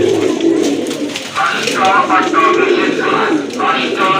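A crested pigeon coos in repeated soft, throaty calls at close range. Other birds and a person's voice sit faintly in the background.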